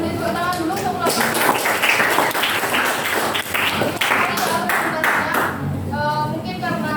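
Audience applause in a school classroom, a steady patter of many hands clapping for several seconds, with voices talking over it.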